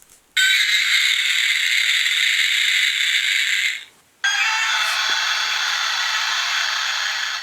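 Trendmasters Gamera kaiju action figures play two electronic roars in succession, each a harsh, buzzy, sustained tone of a few seconds with a slightly different pitch, close and loud with no talk over them.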